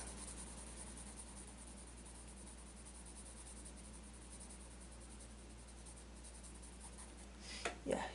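Pencil drawing a cartoon dragon's wing on paper: a steady, soft scratchy shading sound runs continuously and close, with a couple of louder strokes or taps near the end.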